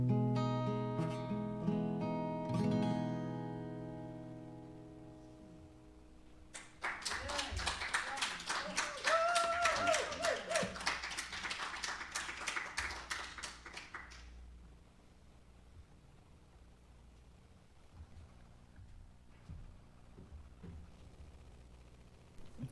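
A church congregation at an Advent service breaks into applause, a dense burst of many hands clapping that swells for several seconds and then fades, following music and with talk resuming afterward.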